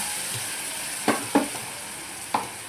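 Ground masala for a rajma curry crackles and sizzles in a hot pan just after water is poured in, with three sharp stirring scrapes over a steady frying hiss.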